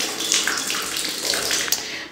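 Cold running water pours into a bucket in a village with a steady, close, splashing rush that fills the whole moment.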